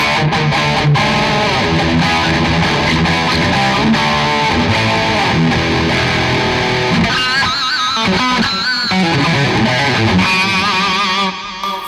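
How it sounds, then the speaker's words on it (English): A loud, heavily distorted electric guitar, played through an EVH 5150III Lunchbox amp, plays chords and riffs continuously, with a brief bending lead passage near the end. "that's the distortion sound"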